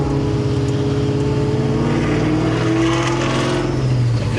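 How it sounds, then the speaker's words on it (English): A cammed Terminator Cobra's exhaust lugs at low revs in heavy traffic, a loud, steady, rumbling lope with uneven choppy pulses throughout and no talking. "when people hit the brakes like this and I have to lug on it with the cam, I bounce around."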